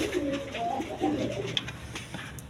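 A pair of quality pigeons, a female and a male, coo softly and repeatedly at close range in a low warbling murmur, with a faint background hum and no talk.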